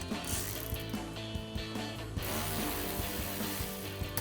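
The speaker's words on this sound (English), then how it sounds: "I'm gonna take the bolts out right now." Ratchet removing bolts from a mud guard on a RAM 1500 pickup, a quiet, steady run of fine clicks close by with a few slightly louder ticks.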